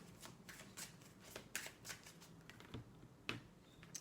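Tarot cards are shuffled in quick, crisp riffles and slaps, a close, quiet run of papery flicks with a few sharper snaps, no talking over them.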